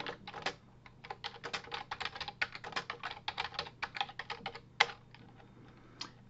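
Fingers clatter over a computer keyboard in quick irregular bursts of keystrokes, close and crisp, with short pauses and one louder key press near the end, no voices.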